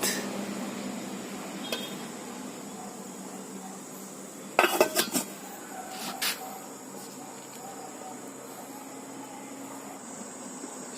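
A metal pot lid clatters back onto a rice cooker pot boiling jackfruit seeds, a short cluster of rattling clinks followed by one more small clink, over a quiet steady hiss.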